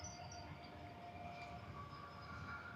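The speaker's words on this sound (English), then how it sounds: "Can hear a train coming." A train rolls past near a railway line in Valladolid, Spain, a steady low rumble with faint whining tones, fairly distant and continuous with no voices.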